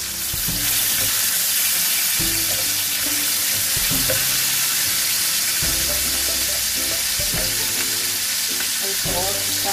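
Chicken tikka sizzles loudly in a hot pan, a dense continuous frying crackle with occasional sharper pops, close up and unbroken by talk.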